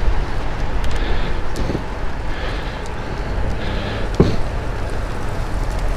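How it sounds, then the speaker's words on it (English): Rough wind buffets a moving car as a steady low roar of wind and road noise, with a single thump partway through. "the wind would be a bit better, but still quite rough"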